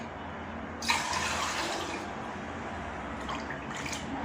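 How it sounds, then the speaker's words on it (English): Pineapple juice pours steadily into a jug, a continuous soft liquid splash and trickle heard alone at low level throughout. "we're gonna be putting our pineapple juice in the jug"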